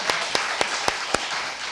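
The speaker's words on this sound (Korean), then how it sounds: "박수로 환영하겠습니다." Church congregation welcoming a newly registered member with clapping, heard as five sharp, evenly spaced claps, close and fairly loud, with no voices.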